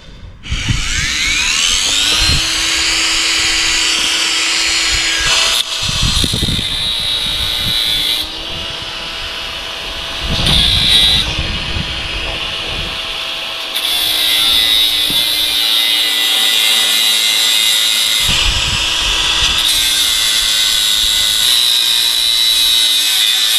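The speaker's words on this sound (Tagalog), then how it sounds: "So ikakating lang natin tong stabilizer linkage." A high-pitched power tool whines continuously while cutting through a car's stabilizer link, its pitch dipping and rising as the blade bites, with short pauses and louder grinding stretches over more than twenty seconds.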